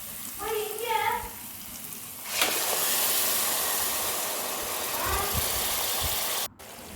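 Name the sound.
sizzling tomato puree being sautéed with onions in a pan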